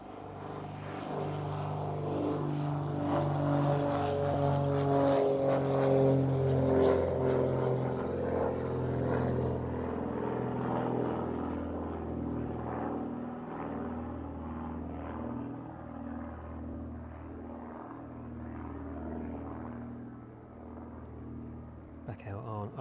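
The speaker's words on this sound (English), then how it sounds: "The Vulcan Air then, that one departing out of East Midlands." Vulcan Air propeller aircraft departing East Midlands Airport in the evening, a droning engine with strong pulsing low harmonics that rises to a peak near the middle and then slowly fades into the distance.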